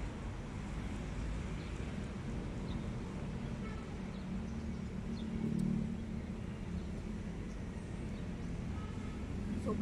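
Steady roadside traffic along a highway on a hot day, a continuous broadband road rumble with a passing vehicle swelling slightly near the middle, faint bird calls above.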